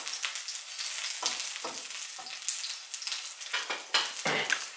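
A veal chop sizzles in a frying pan with rosemary for a sauce, a continuous crackling hiss close by, broken by several short scraping bursts as the pan is worked.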